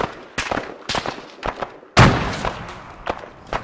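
Grenade blasts and gunfire in the ArmA 3 combat game crack out as sharp separate bangs, the loudest a heavy thump with a rolling tail near the middle, among scattered shots at irregular intervals.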